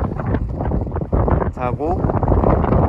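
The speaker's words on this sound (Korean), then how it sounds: "우도가 바람이 진짜 세요" Strong wind on Udo island, Korea, during a backpacking and hiking trip, roaring and buffeting the microphone steadily throughout, with a person talking over it.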